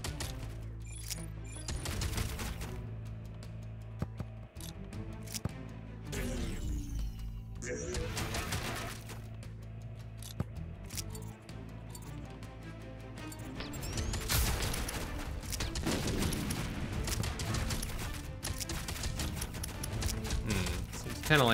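Scattered plasma blasts from a twin scatter plasma cannon in WarSphere fire in irregular bursts amid game music, with a voice talking over much of the action and heavier firing toward the end.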